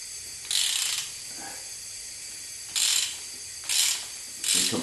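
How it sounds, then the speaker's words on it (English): A socket wrench ratchets off a 1-inch hex head on a Subaru part, giving four bursts of bright, rapid clicking, each about half a second long, with short pauses between them, close and fairly loud. "You can put a socket or a wrench on it, take it off."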